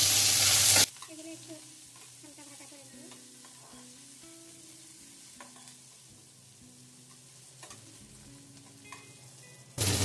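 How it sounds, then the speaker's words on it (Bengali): Steady sizzling of onions and green chilies frying in hot oil in a wok, with intermittent stirring clicks and a faint tonal hum; sharper bursts of hissing open and close it. "আমি কড়াইয়ে কিছুটা তেল বসিয়ে দিয়েছি। এখন দিয়ে দিব এক কাপ পরিমাণে পেঁয়াজ আর মরিচ"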